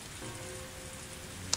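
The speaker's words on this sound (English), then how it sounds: "a torrential downpour started" Torrential rain drums on the roof of a stopped car, a steady close, dense patter with one brief sharper tap and no voices.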